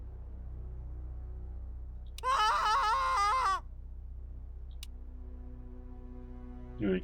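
A video game character lets out one loud, wavering scream lasting about a second over a low steady drone, followed by a brief cry near the end.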